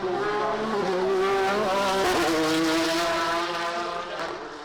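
A Porsche 911 race car corners at the Goodwood Festival of Speed, its engine a loud, steady harmonic roar with pitch shifts as it powers through the bend and then fades slightly.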